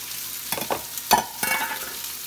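Broccoli and garlic frying in a pan, with a steady sizzle broken by several sharp clatters and scrapes as the vegetables are stirred.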